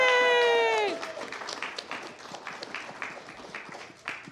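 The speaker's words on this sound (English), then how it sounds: "let's give a big round of applause for Dustin and Shining Armor." At a cosplay competition and show, a high excited cheer rings out at first, then the crowd breaks into sustained clapping for the third-place beginner cosplayers, with scattered voices over the applause.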